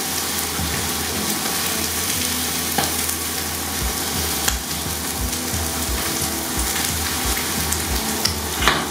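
Veal and chicken livers sear in a hot pan with a steady, dense sizzle and crackle throughout, punctuated by a few louder pops and stirring scrapes, no voices.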